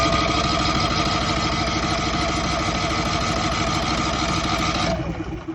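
A Westinghouse iGen5000DF dual fuel generator engine, started by its battery push button, runs with a steady loud mechanical drone and vibration for about five seconds, then winds down near the end.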